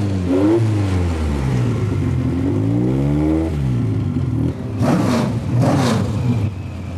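A hillclimb racing car at Inistioge, Kilkenny, during a Dunlop Hillclimb Championship round, revs loudly and climbs through several rising gear pulls with shifts between them. Two brief bursts of crackle follow near the end.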